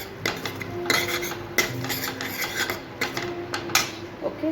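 A metal spoon scrapes and clinks around a pot while coarsely ground coriander is mixed into a dal makhani base, giving a run of close, uneven rasping strokes with sharp taps against the metal.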